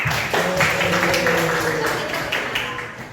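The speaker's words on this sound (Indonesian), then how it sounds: "Tepuk tangan untuk kalian." Students in an Indonesian classroom clap together, a fairly loud burst of many hands patting under mixed voices and chatter, fading slightly toward the end.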